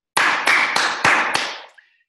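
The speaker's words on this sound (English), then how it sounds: "Like a clapping is an example of a stationary noise" Five sharp hand claps in a steady rhythm, close and loud in a quiet room, the last one ringing out with a short tail.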